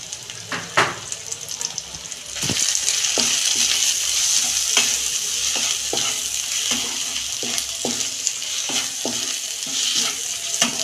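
Cumin powder, coriander powder, chilli powder and green chillies sizzle in hot oil in a pan for chilli soybean, a constant frying hiss punctuated by repeated scraping and clinking strokes of a spatula stirring the mixture.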